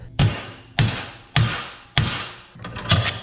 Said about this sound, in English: So now let me bend this down at an angle.